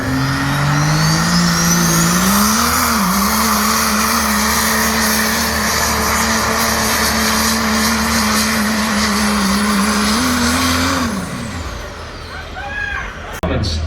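A Cummins-powered diesel truck roars at full throttle during a truck pull at the UCC 2021 event. The engine holds a loud, sustained growl with small pitch swells, then winds down sharply near the end.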